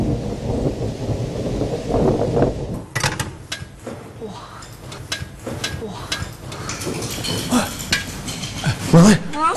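Thunderstorm with heavy rain, a steady broad hiss of rainfall with a rolling rumble, heard in a Singapore kopitiam scene, with some clattering and faint voices.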